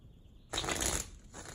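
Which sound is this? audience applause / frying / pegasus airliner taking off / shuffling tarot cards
shuffling tarot cards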